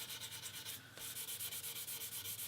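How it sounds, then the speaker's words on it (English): Steady rhythmic sanding of a wooden guitar body, a rasping stroke repeating back and forth at an even pace, close up with no voices. "during the sanding process"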